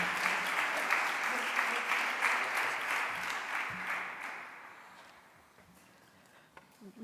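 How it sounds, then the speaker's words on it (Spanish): Audience applause for someone speaker at a conference event, sustained clapping for about five seconds that fades out toward the end, leaving near quiet. "Y os pido un aplauso para ella, por favor."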